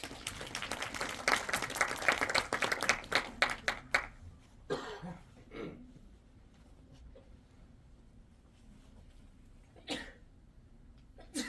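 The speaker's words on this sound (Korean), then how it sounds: "큰 박수로 모시겠습니다." An audience applauds to welcome a speaker at an AI film festival forum in Busan's cinema center, with dense clapping for about four seconds that then fades into a quiet hall broken by a few scattered coughs and stray claps.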